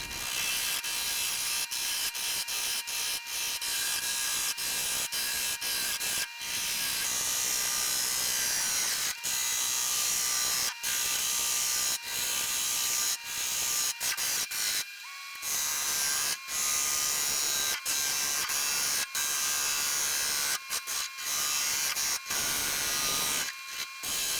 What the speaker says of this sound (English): I'm going at this with my 5/8 inch bowl gouge.